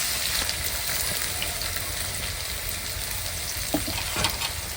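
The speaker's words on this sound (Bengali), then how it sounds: "পেঁয়াজটা একটু ব্রাউন কালার করে ভেজে নেব।" Chopped onions fry in hot oil with ginger, giving a constant loud sizzle with occasional stirring scrapes, close and without speech.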